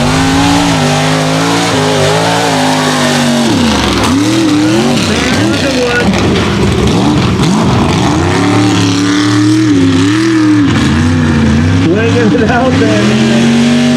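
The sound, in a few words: mega truck racing engine revving in mud race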